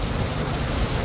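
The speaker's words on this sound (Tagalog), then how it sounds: "lakas ng ulan, lakas ng hangin na papunta sa atin." Heavy rain and strong wind in a tropical storm roar as a dense, steady wash of noise, loud and continuous with no pauses.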